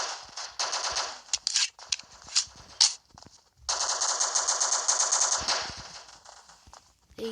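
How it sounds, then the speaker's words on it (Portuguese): Rapid bursts of automatic gunfire from a video game, loud and sustained, broken by short pauses and a few single shots. "Você vê tiro."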